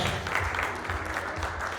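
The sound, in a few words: applause before cutting a cake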